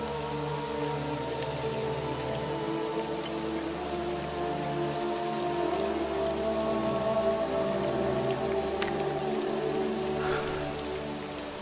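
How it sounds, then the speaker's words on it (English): Steady rain falls in a continuous soft patter with a low, even hum beneath it, with no talking. "I love the rain."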